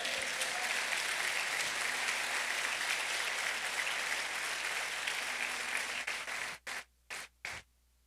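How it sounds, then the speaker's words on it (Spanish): Church congregation applauding during a sermon, a broad sustained roar of clapping that cuts off abruptly near the end with a few short trailing bursts. "Alguien dele un aplauso al Rey"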